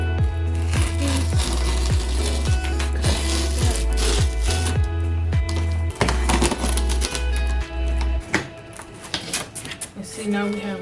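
Cardboard being cut along the seams on a blue cutting mat, a run of rhythmic crunching cuts repeating about every half second for most of the stretch, then looser scraping and handling.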